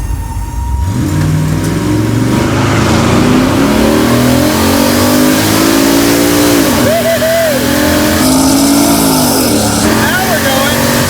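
A car with stock suspension and a 600-plus horsepower LS V8 roars loudly as it accelerates hard, the engine note climbing steadily through the gears with a brief shift dip, heard close and continuous.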